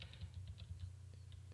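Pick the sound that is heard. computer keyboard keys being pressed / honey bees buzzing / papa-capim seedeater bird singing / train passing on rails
computer keyboard keys being pressed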